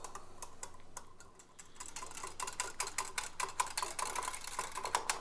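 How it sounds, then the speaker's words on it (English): A whisk beats reconstituted milk powder and water in a bowl with quick, rhythmic ticking strokes that grow louder and denser as the mixing goes on. No one speaks. "now I'm just going to give this a very good mix, or whisk it up here"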